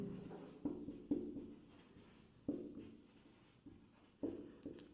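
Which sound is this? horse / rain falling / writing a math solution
writing a math solution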